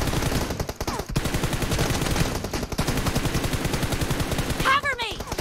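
Rapid automatic gunfire in the mobile battle royale game PUBG Mobile rattles in dense, loud bursts that barely pause, with a brief sharp effect near the end and a voice speaking underneath.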